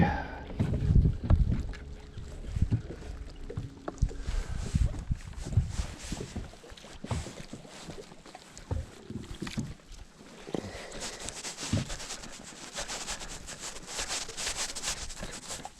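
Gusty wind buffets a fishing boat on Lake Cumberland in March, a loud, continuous roar and rumble of wind noise with water and hull sounds rising and falling throughout.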